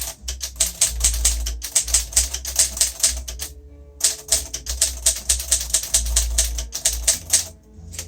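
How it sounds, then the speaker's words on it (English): A 1947 Royal Quiet Deluxe typewriter with glass keys is typed on briskly and up close, rapid sharp key strikes in bursts with a brief pause midway. "There is just something about typing on these glass keys that can't explain."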